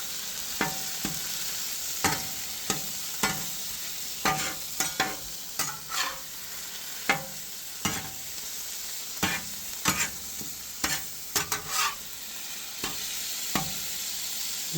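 Venison is stirred and scraped across a hot Blackstone griddle, with a soft steady sizzle under repeated, irregular spatula strokes close by.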